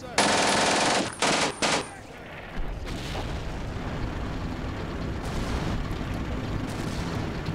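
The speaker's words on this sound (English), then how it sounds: "They use the machine gun or something at least." Machine-gun fire in the World War II strategy game Combat Mission: Beyond Overlord, several loud rapid bursts in the opening seconds, then a rumbling battlefield din.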